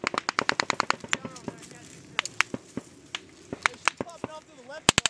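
Rapid gunfire in a firefight with the Taliban, with dense bursts of sharp shots through the first half and more scattered single cracks later, some close and loud, as soldiers talk and shout under the shooting.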